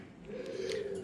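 Domestic pigeons cooing at close range, a single sustained low throaty coo rising from faint background noise and holding steady for about a second.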